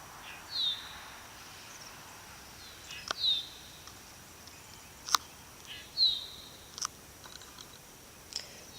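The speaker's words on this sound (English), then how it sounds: "I like to listen to the birds sing." Birdsong on a foggy morning at a homestead garden: several short, bright chirps and calls scattered across a quiet outdoor background, moderately distant, with a few sharp clicks between them.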